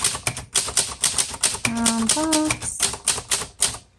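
Rapid keystrokes clack on a 1958 Cole Steel travel typewriter, crisp close strikes in quick bursts with a short pause in the middle, while a voice speaks briefly.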